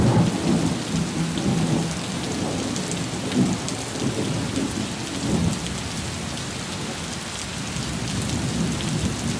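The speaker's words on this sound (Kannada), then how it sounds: "ಮಳೆಯ ಆರ್ಭಟ ಜೋರಾಗಿದೆ." Heavy rain pours steadily over the twin cities of Hubballi-Dharwad in Karnataka, with deep rolling thunder rumbling through the dense downpour, loud and continuous with no voices.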